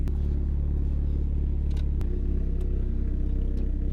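An SR20-swapped Nissan Sentra SE-R idles loudly nearby, a deep steady rumble with lumpy low-end pulsing and a slight rise in pitch midway, running alone with no talk.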